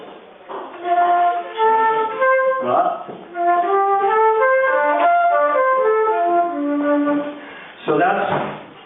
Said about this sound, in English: we decided to create something using a pentatonic scale starting on F